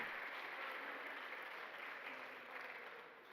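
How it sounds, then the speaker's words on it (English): Quiet, distant applause from a college awards ceremony crowd honoring track and field seniors, a soft continuous patter that eases slightly toward the end. "A big round of applause for the seniors of the track and field team."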